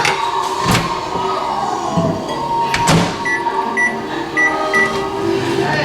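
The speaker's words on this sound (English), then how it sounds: "I put it in the microwave for about 30 seconds" A steady microwave hum fills the room with a constant drone while reheating apple cobbler, punctuated by a couple of sharp clicks and faint intermittent beeping toward the end.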